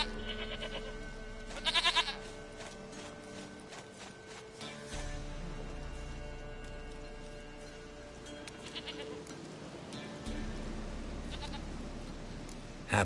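Bleating goat in The Witcher 3: Wild Hunt, with several wavering bleats near the start and again later over a continuous ambient bed of wind and faint clatter, no talking.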